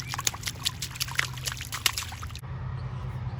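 River water trickles and splashes close by in an outdoor summer setting, busy uneven spatters for about two seconds that then drop to a softer steady flow, with no talking.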